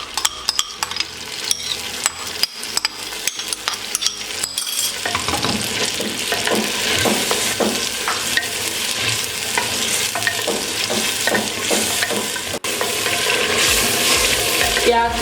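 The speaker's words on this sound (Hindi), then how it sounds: "अब इसमें प्याज का पेस्ट ऐड करेंगे और 3 से 4 मिनट के लिए इसे मज़ीद फ्राई कर लेंगे।" Chicken and onion paste for a handi biryani fry loudly in a pot, with rapid metal spoon scrapes and clinks at first, then a dense, bubbling sizzle under continued stirring.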